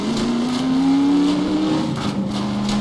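A car in the game Half-Life 2: Episode Two drives through puddles with a steady, droning engine note that climbs slowly in pitch, loud and continuous with no talk over it.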